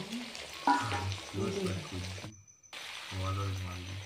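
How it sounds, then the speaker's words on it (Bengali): Prawns sizzle in hot oil in a pan as they are turned and stirred, a continuous crackling hiss beneath a person talking, with a brief silent break midway. "একটু উল্টে পাল্টে দিচ্ছি যাতে এপিট ওপিট একটু ভালোভাবে ভাজা হয়।"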